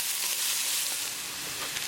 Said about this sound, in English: Keep it moving and keep cooking until the onions are nicely translucent.